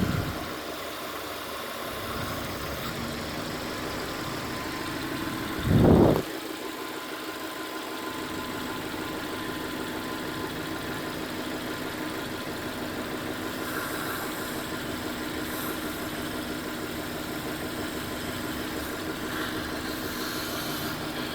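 Mitsubishi Lancer engine idling after an idle air control valve reset, a steady low rumble throughout with one brief louder thump near the start.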